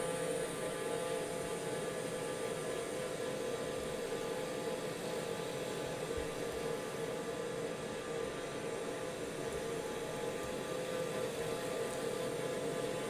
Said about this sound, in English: kind of a loud engine trying to speak over TBM 930